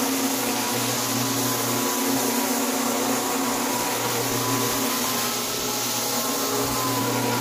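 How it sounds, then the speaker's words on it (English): A loud, constant whirring vacuum cleaner motor drone with a steady hum, running without pause while cleaning hardwood floors, no voices. "I want to show you the difference between when my vacuum is on and when it's off,"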